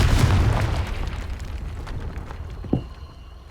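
A Confringo fire spell bursts in Hogwarts Legacy, a loud rumbling blast that fades gradually over a few seconds, with a brief sharp pop near the end and no speech.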